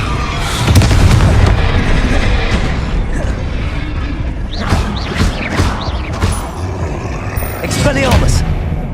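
The Confringo blast spell from Hogwarts Legacy bursts out in repeated loud booms and crackling blasts over dense game noise, while voices shout over the action.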